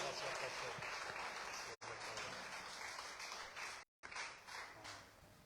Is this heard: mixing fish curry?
no